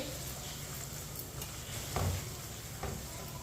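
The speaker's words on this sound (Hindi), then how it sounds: "मसालों को 1 मिनट के लिए मैंने भून लिया" Spices for dal palak, including coriander powder, fry gently in a pan over low heat. A faint, steady sizzle runs throughout, with a couple of light stirring scrapes and taps in the pan.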